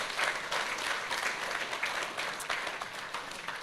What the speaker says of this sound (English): A big round of applause for ISO.